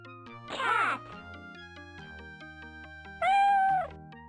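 Cat meows from an MS-DOS Mario video game, two distinct synthetic-sounding meows about three seconds apart, each loud and drawn out, over steady chiptune game music.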